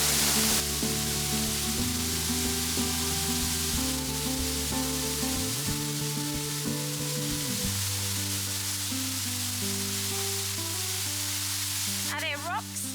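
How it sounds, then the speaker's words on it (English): The second waterfall at Little Mertens along the Gibb River Road in the Kimberley roars with a steady rushing noise throughout. Sustained humming tones shift beneath it. "And then there's the other waterfall"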